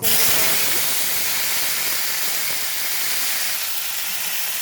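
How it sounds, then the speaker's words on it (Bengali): Dried red chillies and nigella seeds crackle and hiss in hot oil, a loud, steady, close sizzle that bursts in at the start and holds evenly throughout with no voices. "এই তেলে দিয়ে দিচ্ছি শুকনো লঙ্কা, কালো জিরে"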